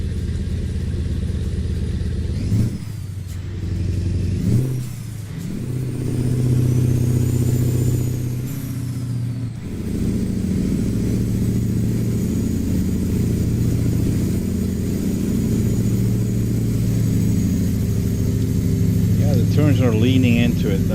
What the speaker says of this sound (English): Let's listen to the engine for a while.